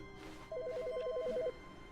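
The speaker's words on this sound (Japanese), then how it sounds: "電話鳴ってる。" A telephone rings in the video game The Stanley Parable, sounding as a single warbling electronic trill that lasts about a second. It is clear and fairly loud over quiet ambience.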